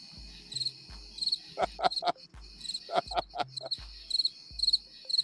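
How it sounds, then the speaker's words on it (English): Crickets chirp steadily in a continuous, rhythmic pulse, fairly close and clear, with a few faint bursts of other calls layered in between. "What's that? Crickets."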